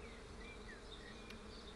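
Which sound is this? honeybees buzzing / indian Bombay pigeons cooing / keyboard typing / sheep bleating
honeybees buzzing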